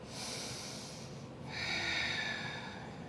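Deep, slow breathing during a core-strengthening yoga flow with hip openers: one long, airy breath that swells midway, close and clear, with no talking.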